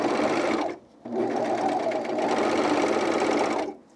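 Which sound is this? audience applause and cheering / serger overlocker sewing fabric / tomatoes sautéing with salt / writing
serger overlocker sewing fabric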